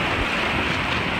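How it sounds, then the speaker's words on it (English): Rushing water from rapids on the San Marcos River, a steady broadband roar with wind buffeting the microphone, continuous and close throughout. "Rapids."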